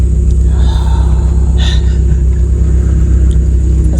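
Flooded Volvo 240 wagon driving, a steady loud low engine and road rumble with a constant drone throughout, plus a brief brighter rattle or squeak midway.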